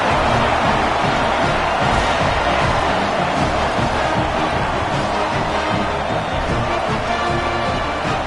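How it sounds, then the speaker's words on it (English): Football stadium crowd cheering a South Carolina touchdown against Iowa, a broad sustained roar of many voices heard from a distance, steady throughout. "This crowd absolutely loving it as he rolled into the end zone."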